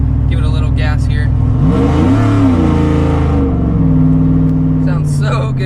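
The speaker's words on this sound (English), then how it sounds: "Give it a little gas here." A 500 HP Chevrolet Silverado with a 6.0 engine and its exhaust cutout open revs loudly up close, with rising and falling engine tones over a steady idle rumble and someone talking before and after.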